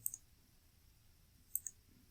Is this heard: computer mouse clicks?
yes